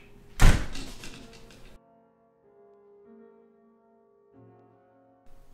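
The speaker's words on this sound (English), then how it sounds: "Sydney Rose Anderson, don't you dare go out that door!" A door slams shut hard in a single loud thud with a brief rattle, followed by a low quiet hum.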